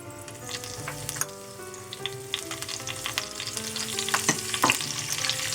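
Curry leaves crackle and sizzle in hot oil for a moong masoor lentil dal, with whole spices already in the pan. The frying is continuous and close, spattering with sharp pops, and no one speaks.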